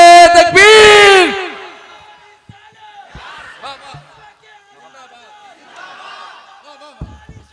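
A crowd at a religious gathering roars a loud, swelling chanted slogan in unison, then falls away into scattered voices and murmured chatter that continue at a lower level.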